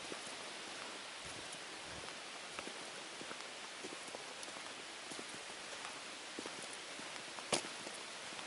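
Light rain patters softly outdoors on a solo backpacking trip, a faint, steady hiss of drops with occasional slightly louder taps.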